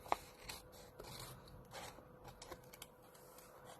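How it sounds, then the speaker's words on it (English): Scissors trim cardstock at a crafting desk, giving a few quiet, crisp snips and light rustling cuts spread across a few seconds, close but faint, with no talking. "Then I'll take my scissors and I'll trim this down."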